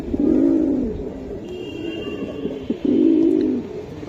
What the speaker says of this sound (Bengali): এই দেখেন ভাই কবুতর দেখছেন ফাটাফাটি না ভাই, প্রত্যেকটা কবুতর খুবই সুন্দর